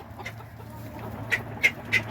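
Chickens in a cold-weather coop with a heater running give three short, faint clucks in the second half, over a low steady hum.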